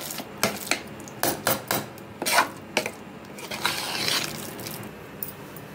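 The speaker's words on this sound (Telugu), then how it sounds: "ఇప్పుడు దీన్నే మెత్తగా మెదుపుకోవాలండి, మ్యాష్ చేసుకోవాలి." Cooked dal being mashed for bobbatlu, with a run of sharp, close clacks and soft squishy knocks from a utensil against a pot, irregular bursts with short pauses between them.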